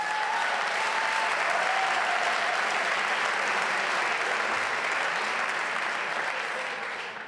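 Comedy club audience in a shisha bar applauding steadily at full strength, a dense wash of clapping that holds for about seven seconds before easing slightly at the end.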